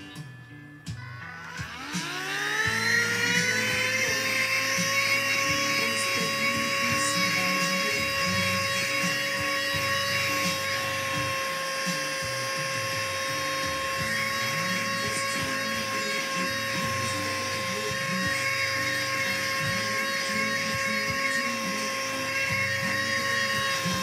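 A vacuum cleaner fitted with a homemade taped straw nozzle for corners spins up, then holds a steady, loud whining drone with a high, thin suction hiss, running alone with no talk.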